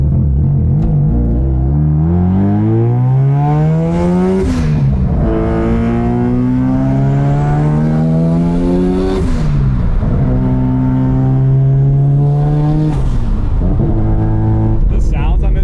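An 800whp Subaru STi engine revs hard through several rising pulls, each climbing sweep cut by a gear change, loud and close from inside the car.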